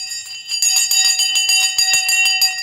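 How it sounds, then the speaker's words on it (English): Closing bell rung on a live stock market stream, a bright ringing bell struck rapidly and repeatedly with sustained metallic tones, close and loud. "I'm going to ring the bell twice."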